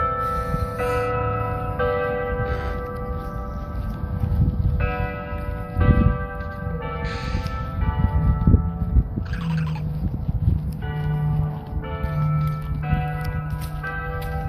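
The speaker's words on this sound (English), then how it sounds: "Hear the bell." Deep, resonant bell tolls ring out, each stroke sustaining with rich overtones, over a steady background of crowd noise and outdoor bustle.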